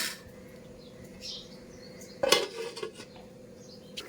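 A metal lid clatters onto a cooking pot holding a curry of ridge gourd, chana dal and milk, a short bright clang followed by a few lighter rattles as it settles, close and alone over quiet kitchen hiss.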